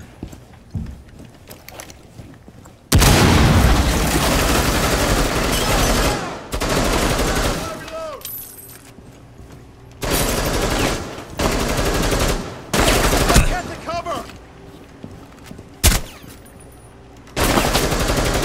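Loud bursts of automatic gunfire from a Rainbow Six Siege match come in several long volleys separated by brief pauses, up close and dense, with quieter background game sounds in between.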